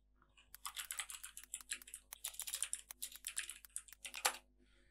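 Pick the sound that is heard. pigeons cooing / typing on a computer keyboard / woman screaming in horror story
typing on a computer keyboard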